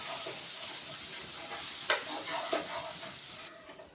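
Garlic, ginger and coriander with asafoetida sauté for dal palak in a soft, low sizzle, broken by a couple of light stirring clinks before it cuts off.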